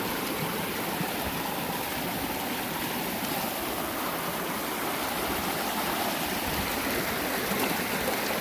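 Floodwater surging through an overwhelmed creek, a loud, constant broadband rush and roar close by, unbroken throughout with no voices.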